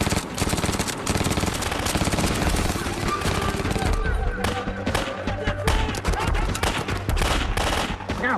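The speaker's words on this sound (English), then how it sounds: "The SAW's job is to keep the enemy pinned down. It has a firing rate of nearly 800 rounds a minute." SAW light machine gun laying down suppressive fire, sustained rapid automatic bursts roaring loud and continuous with overlapping reports throughout.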